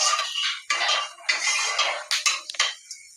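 Whole cumin sizzles in hot oil in a pan while a spatula stirs the tempering, giving a loud, steady hiss broken by several scraping strokes, up close with no voices.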